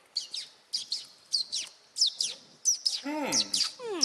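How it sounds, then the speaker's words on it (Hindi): Repeated bright bird chirps and tweets in quick bursts, fairly close, sounding during a Hindi TV kids' show set, with a short descending call sequence near the end. "ये चिड़िया कहाँ से आ गई? ये कहाँ से आ रही है चिड़िया?"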